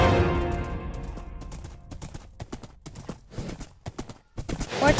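Horse hooves clip-clop in a Minecraft-style animation, a quick run of sharp, close hoof strikes that slows into separate knocks and short pauses.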